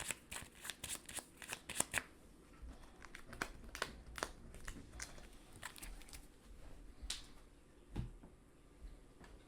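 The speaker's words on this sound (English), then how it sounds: "Shuffle these up and put them at the bottom of the deployment deck." Cards from the Power Rangers: Heroes of the Grid board game being shuffled by hand at close range, with quick riffling bursts, crisp flicks and soft papery rustles, quiet and irregular.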